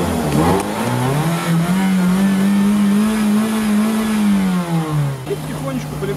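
The engine of a large Sokol amphibious ATV revs close by, a loud, sustained mid-pitched drone rising and holding for several seconds before easing off, with a voice heard briefly over it.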